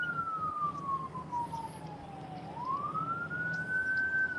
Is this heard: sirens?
yes